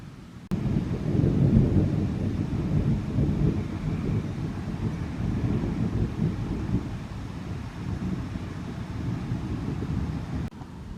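Thunder from a severe thunderstorm rolling as a long, deep rumble that swells early and lingers steadily, with wind buffeting the microphone.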